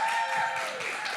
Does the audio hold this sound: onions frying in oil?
no